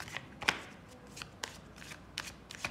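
A deck of oracle cards is shuffled by hand: a handful of crisp, separate riffling snaps and papery rustles at irregular intervals, close and fairly quiet, with no speech.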